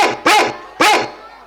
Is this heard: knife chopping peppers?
no